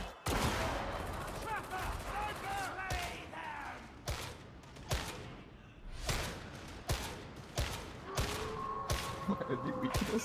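An MG12 machine gun firing in a video game, repeated hard bursts of rapid shots cutting through busy game noise, with a voice talking in between.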